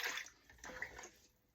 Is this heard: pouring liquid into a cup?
yes